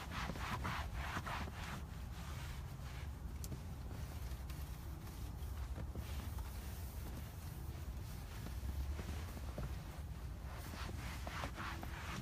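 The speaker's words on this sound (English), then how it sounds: "I'm going to grab a microfiber here. Sorry about that. I'm just going to wipe off the excess." Microfiber cloth wiping excess dressing off a car interior surface: faint, continuous soft rubbing strokes close to the microphone, with a light breathy background hiss and no talking.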